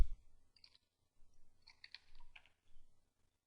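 A command is typed on a computer keyboard in a few short bursts of close, light key clicks separated by brief pauses, quiet and alone.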